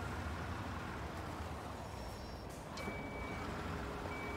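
A small construction vehicle in the Bau-Simulator building game backs up slowly, sounding steady reversing beeps over a constant loud engine rumble, with no talk.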